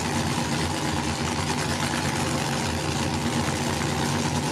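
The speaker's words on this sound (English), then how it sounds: "all eyes on that small block front engine" A small-block front-engine race car idles at a dirt track event, its steady loud rumble continuous and close throughout with a lumpy low throb.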